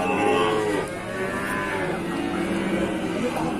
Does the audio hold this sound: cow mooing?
yes